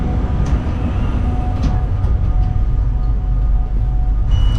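Steady low rumble of an older train rolling along in Slovenia, with faint rattles and occasional squeaks over a constant, fairly loud drone.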